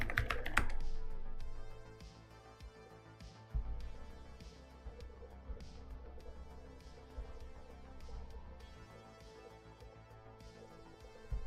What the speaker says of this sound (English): So, properly typing a key down the handle.